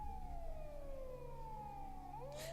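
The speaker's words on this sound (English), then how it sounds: "I could faintly hear police car sirens in the distance." Distant police car siren in the Steins;Gate 0 video game: one faint, far-off wail sweeping slowly downward before rising again, over a low steady hum.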